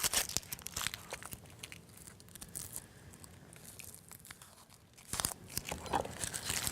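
Papery onion skin being peeled and torn off by hand during dinner prep at a fireplace, a run of close crinkling, crackling tears in bursts with a short quieter pause in between.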